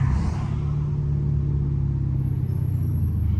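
Dodge Hellcat engine rumbling nearby, a loud, steady low drone heard from inside the car with slight revving at the start and no voices.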